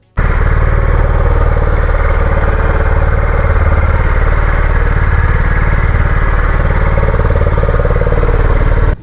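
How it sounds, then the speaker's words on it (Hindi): A Honda CB 350 motorcycle idles after a cold morning start, its engine thumping in a loud, steady, close-up rhythm that holds unchanged before cutting off at the end. "मैंने किया बाइक को कोल्ड स्टार्ट, और भाई ये सुबह के समय जो साउंड आता है ना बाइक का,"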